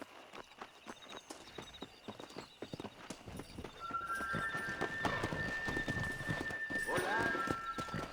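Horse hooves clip-clop in the video game Red Dead Redemption, a quick rhythmic beat that builds toward a gallop, along with a whinny, game music and a voice talking over it.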